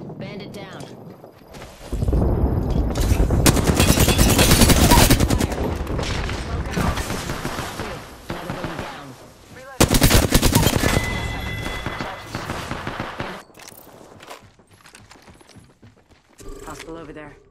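Rapid automatic gunfire in the video game Apex Legends, loud dense bursts of shots in two main stretches with brief pauses, accompanied by game sound effects and a voice speaking over it.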